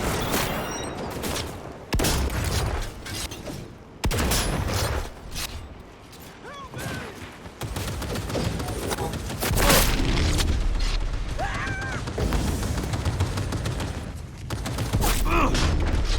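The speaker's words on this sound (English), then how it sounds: "Heavy artillery!" Heavy artillery and weapon fire in Cyberpunk 2077, bursts of booming shots and rattling mechanical clanks in uneven waves over about sixteen seconds, with a voice talking at times.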